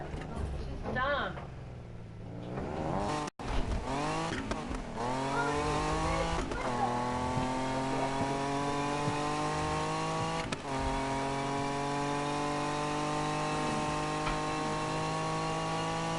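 A car engine in Need for Speed 2015 revs and accelerates in a long rising tone that holds steady and loud, with gear-shift breaks near the start. Someone talks over the engine.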